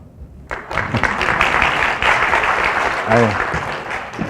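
A lecture audience at a special talk on Amazon selling claps for a few seconds, a dense crackling patter that starts abruptly and carries on under some murmured talk, loud and close.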